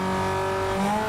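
Chevrolet Cobalt in Need for Speed: Most Wanted accelerating hard, a loud steady engine whine with layered harmonics climbing slightly in pitch near the end, no talking.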